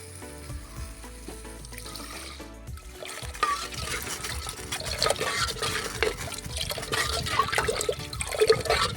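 Water poured into a tamarind curry being made by hand, a steady splashing pour that builds and grows louder over several seconds, with no talk.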